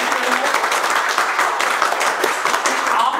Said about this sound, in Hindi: एक बार अपने लिए जोरदार ताली बजाओ भाई।